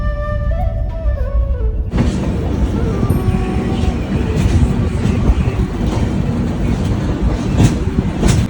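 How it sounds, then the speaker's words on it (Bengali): A Duronto Express train slowing as it nears Kharagpur rumbles and clatters loudly from inside the carriage, a dense continuous roar with rhythmic wheel clicks that sets in after a brief quieter opening. "আজ আমাদের এই ট্রেন নির্ধারিত সময়ের প্রায় দেড় ঘন্টা লেটে চলছে এখন আবার স্লো যাচ্ছে"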